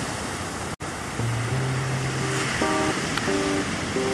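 Ocean waves at a California beach on a windy day, a loud, continuous wash of surf and wind buffeting the microphone with no break, and no one talking.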